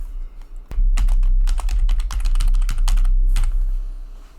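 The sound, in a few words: typing a password on a computer keyboard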